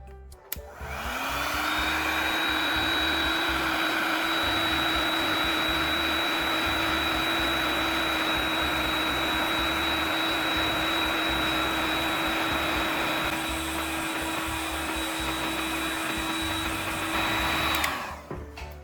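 A hot air tool blasts steadily onto PPR plastic pipe, a loud continuous blowing whine with a fixed pitch that holds for about sixteen seconds before cutting off.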